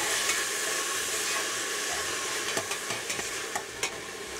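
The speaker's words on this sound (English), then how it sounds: "So let's just saute this for a while." Garlic and seasoning peppers sauté in a pot under a constant hiss of frying. Scraping stir strokes cluster in the second half of the clip.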